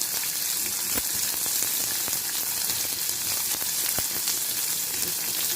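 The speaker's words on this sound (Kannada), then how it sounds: "ಈರುಳ್ಳಿ ಬೆಳ್ಳುಳ್ಳಿ ಒಂದು ಸ್ವಲ್ಪ ಚೆನ್ನಾಗಿ ಮಾಗಿಸ್ಕೋಬೇಕು ಕೆಂಪುಗೆ" Onion and garlic fry in a pan until reddish, a dense continuous close sizzle with occasional faint clicks, nobody speaking.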